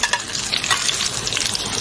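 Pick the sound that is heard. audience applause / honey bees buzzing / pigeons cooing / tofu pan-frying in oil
tofu pan-frying in oil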